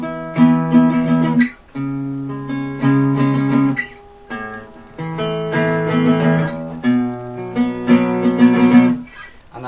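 Guitar playing the intro chords of a song, each chord picked as a steady down-down-up-down-up arpeggio, ringing and close, with brief gaps between chord changes.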